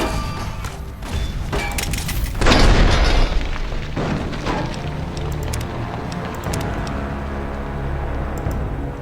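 Grenade blasts and gunfire from the video game Fallout: New Vegas, with a heavy burst near the middle set within continuous loud, crackling combat noise and scattered sharp impacts.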